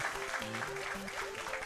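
Audience applause at a speedrunning marathon event, a brief patter of clapping heard faintly under game music and chiptune tones.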